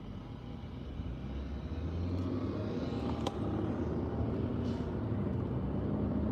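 Steady low rumble of jammed city road traffic in Qatar during the morning office rush, idling cars and heavier vehicles blending into a continuous drone, with a brief sharper hiss midway.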